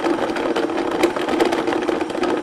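A blender pulverizes dates for an orange cream mocktail, running with a loud, steady mechanical whir and slight rhythmic chopping pulses, close by and uninterrupted.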